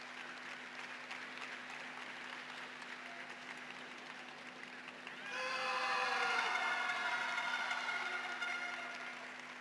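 Crowd applause swells after a men's karate kata final at a European championship, rising suddenly out of quiet arena ambience and holding steady as a broad wash of clapping with cheering mixed in.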